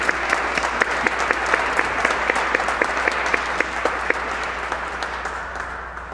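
A church congregation at Sunday Mass applauds the string quartet, a steady, even round of clapping from many hands that carries on unbroken.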